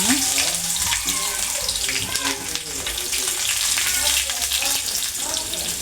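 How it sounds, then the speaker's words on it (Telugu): Onions fry in a couple of spoons of oil in a pan on a stove while a milmaker curry is being made, giving a steady broadband hiss that runs through the whole stretch, fairly loud and close, with a voice talking over it. "ఉల్లిపాయలు వేగుతున్నాయి కదా"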